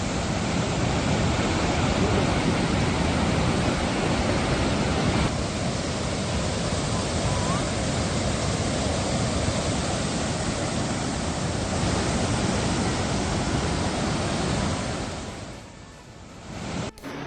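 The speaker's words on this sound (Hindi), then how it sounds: "बाढ़ की चपेट में फ्रांस का एनेनो इलाका बारिश के बाद तेज रफ्तार से भरता नजर आ रहा है पानी" Floodwater rushes through the Anneau area of France after heavy rain, a loud, steady broadband roar of churning water that holds nearly unchanged for about fifteen seconds before easing slightly at the end.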